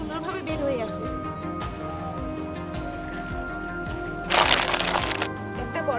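Cooked snails are tipped out of a pot in a sudden clattering, rattling pour that lasts about a second. Quieter handling noises come before it, and a voice can be heard faintly in the background.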